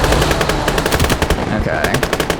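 Rapid, sustained machine-gun bursts from the World War II game Gates of Hell, loud and close, with dense rattling fire continuing across the whole stretch alongside overlapping gunshots.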